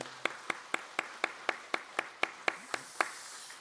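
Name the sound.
church congregation applause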